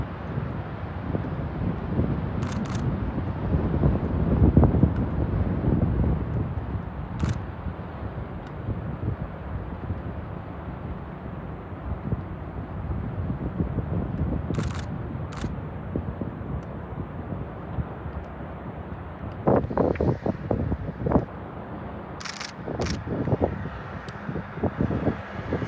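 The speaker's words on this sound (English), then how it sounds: "So once again, wind's picking up, and with the wind come the tree torching." Wind gusting steadily near the Caldor Fire along Highway 89, a loud continuous roar buffeting the microphone with low rumble and scattered sharper bursts toward the end, no talk.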